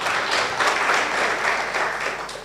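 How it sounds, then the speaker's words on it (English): An audience at the CB Madan Memorial Lecture at Strathmore University breaks into sustained, full applause, a loud continuous wash of many hands clapping with no talk over it. "Please clap for yourselves"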